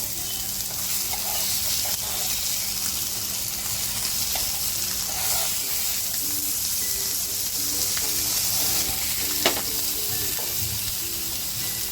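Prawn-stuffed Bombay duck rolls fry in hot oil in a pan, making a continuous close sizzle with a few faint knocks and clinks, and no talking.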